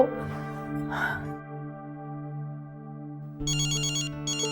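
A phone ringtone plays a sustained electronic melody, joined by a chirping trill near the end, with a brief gasp-like breath early on.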